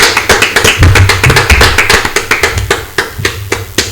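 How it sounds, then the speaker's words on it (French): A crowd in a Congolese TV studio applauds to encourage someone at a handover, loud close clapping with distinct rhythmic claps that thin out toward the end. "Si on peut applaudir pour l'encourager, c'est ça."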